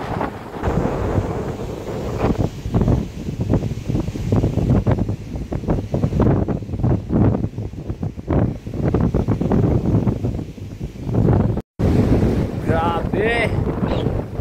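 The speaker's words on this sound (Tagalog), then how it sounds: "napakalakas ng hangin" Strong storm wind roars at a typhoon-wrecked beach resort in Bucana strewn with bamboo and timber, a constant heavy buffeting rush with gusts and mic blasts, while someone talks throughout.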